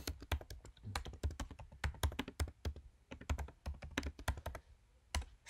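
Rapid typing on a computer keyboard, a steady stream of crisp key clicks in uneven bursts with short pauses, close and fairly quiet.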